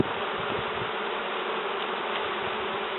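A steady, dense buzzing of many bees swarming close by in a nectar-filled colony inside a sofa, continuous and unbroken throughout.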